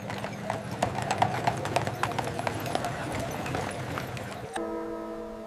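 Horse cart hooves clip-clopping on a street in old Beijing, a steady close rhythm of clopping hoofbeats that stops abruptly, followed by a sustained tonal drone.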